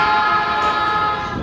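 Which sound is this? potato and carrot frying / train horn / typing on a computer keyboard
train horn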